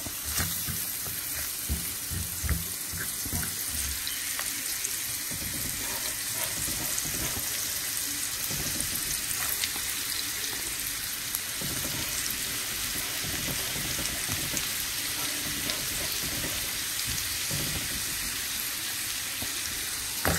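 Garlic fries in a pan while a creamy chicken dish is cooked, a continuous close sizzle and crackle that holds steady throughout with occasional stirring clatter.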